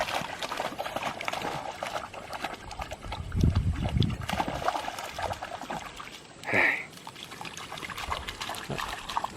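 A Jack Russell Terrier swims and splashes through water, giving choppy sloshing and trickling with a heavier burst of splashing midway and a brief higher squeal-like sound near the end.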